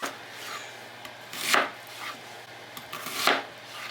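A knife cutting large Vidalia onions on a board for French onion soup: scattered soft taps, then two louder, drawn-out slicing strokes, close and fairly quiet against a faint steady hum.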